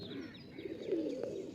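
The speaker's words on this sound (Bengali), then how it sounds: "এই হচ্ছে পায়রা" Tournament pigeons at a loft in Sankrail, Howrah coo faintly in a low, continuous warble, with no voices.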